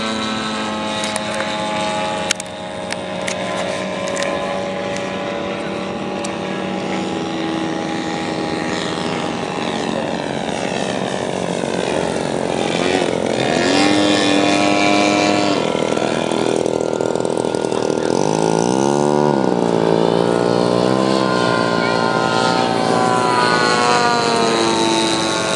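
The engine of an RC model airplane drones steadily at an airshow, loud and close, its pitch sliding up and down as the plane passes and maneuvers, with a faint background of voices.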